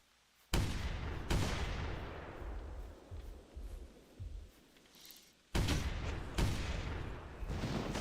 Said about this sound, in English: I'm also shooting its tail. I shoot everything I see.